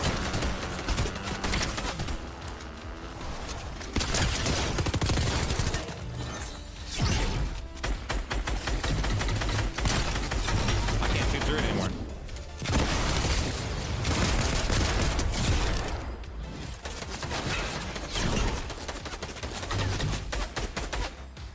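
Sustained Fortnite gunfire fills the scene, with dense bursts of rapid shots and crashing impacts that run almost continuously and loudly, broken by only a few brief lulls.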